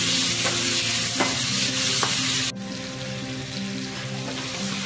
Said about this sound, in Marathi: आणि याला पाणी सुटेपर्यंत टमाटाला याला फ्राय करून घेऊया।